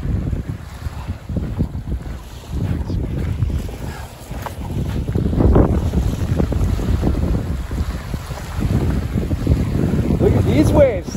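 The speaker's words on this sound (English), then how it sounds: "These waves, some of these are like 9 inches." Small waves lap and wash along the Big Bear Lake shoreline in irregular low surges, heavily mixed with gusting wind buffeting the microphone, with no voices.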